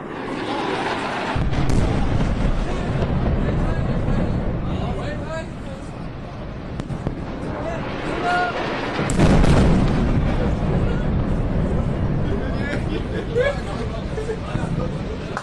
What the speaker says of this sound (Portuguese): Você vê o barulho dos aviões bombardeiros chegando, né, e fazendo bombardeio ali na região